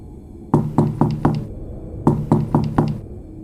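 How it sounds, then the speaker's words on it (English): A door is knocked on in two close, sharp bursts of four evenly spaced raps each, with a short pause between the bursts. No voices are heard. "The knocking didn't stop."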